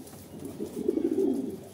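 Pigeons on a rooftop give low, rolling coos that swell in the middle and carry on close by, with no talking.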